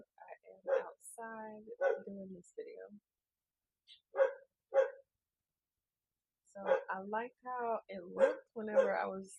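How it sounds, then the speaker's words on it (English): A dog barks somewhere outdoors in the background, faint and intermittent, beneath someone talking close by while crafting a handmade copper wire ring. "Sorry about the dog barking in the background."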